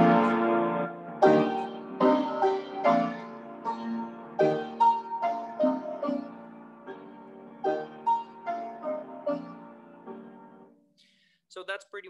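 A piano plays "The Great Gate of Kiev," the final piece of Mussorgsky's Pictures at an Exhibition, in broad, sustained chords that fade out, followed by a brief, faint sound at the end.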